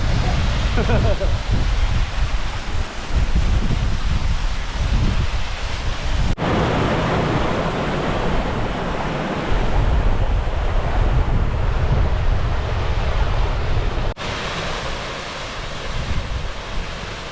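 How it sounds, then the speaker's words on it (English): Loud, continuous roar of surging water in the Moffat Hills, Scotland, broadband and steady with only brief dips, like waves or a torrent rushing close by. "Power of water!"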